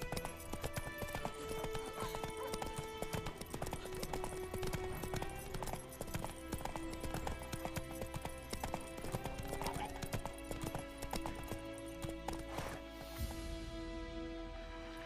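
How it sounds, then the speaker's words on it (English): Rhythmic hoofbeats of a galloping horse in The Witcher 3, steady and close throughout, joined by occasional whinnies and a brief voice over the pounding gait. "Run, Roach. Come on, Roach."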